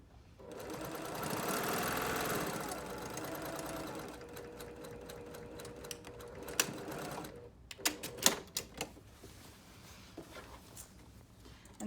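A sewing machine runs steadily while stitching quilt seams, a continuous mechanical whir that breaks into short bursts and clicks toward the end, close and fairly quiet.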